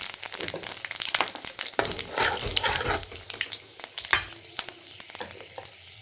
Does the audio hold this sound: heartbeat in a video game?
no